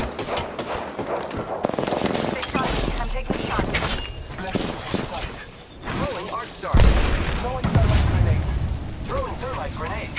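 Rapid gunfire bursts and heavy impacts from a squad fight in a competitive online shooter, with a player talking over the near, loud, sustained shooting and explosions.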